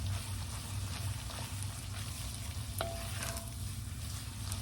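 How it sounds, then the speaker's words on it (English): Beaten egg scrambles into fried noodles in a hot pan with a constant soft sizzle, and spatula stirring adds scrapes and light taps. Nearby and quiet, with no talking. "I'm just mixing it in, letting it scramble in here with it"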